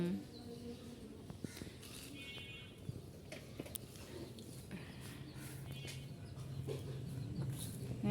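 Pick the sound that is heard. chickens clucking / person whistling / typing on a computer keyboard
chickens clucking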